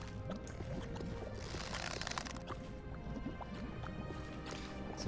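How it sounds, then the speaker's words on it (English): Continuous watery bubbling and gurgling ambience from an overcast, gray outdoor area in the video game Morrowind, steady and moderately loud with faint drip-like plinks throughout. "There's like this weird bubbling sound going on."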